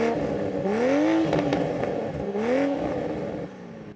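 A 2023 Toyota Supra Premium with the 3.0 engine revs twice from a stationary idle, each rise climbing and falling back, loud and close, before settling toward idle.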